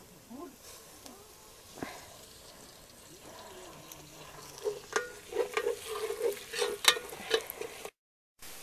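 A cup of oil poured into a pot on the stove gives a faint, quiet start, then a run of soft crackles and spits building toward the end, with a low murmur underneath.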